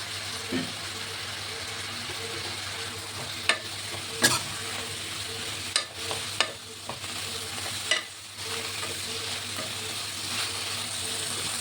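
Spinach and onions fry in hot oil in a pan, a steady soft sizzle under occasional sharp scrapes and clacks of a spoon stirring, with a few louder knocks.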